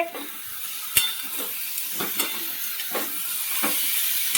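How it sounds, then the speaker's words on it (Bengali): Ground coriander, cumin, chilli and turmeric sauté in a pan with a steady hissing sizzle, punctuated by periodic scrapes of a spatula stirring the spices, close by. "এটা ভালো করে কষিয়ে নিচ্ছি।"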